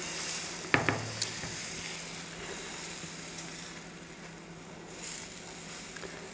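Semolina (suji) pancake batter poured into a warm pan: a sharp splash at the start, then a soft, steady sizzle and hiss that carries on quietly.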